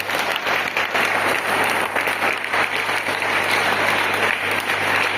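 Sustained applause from a crowd of students at a personality-training class held at a government high school, dense steady clapping that stays loud and even throughout with no voices rising above it.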